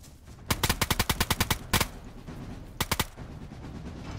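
Automatic gunfire in DayZ Standalone, a rapid burst of about ten loud, sharp shots, a brief double shot, then a short three-round burst, over quiet background.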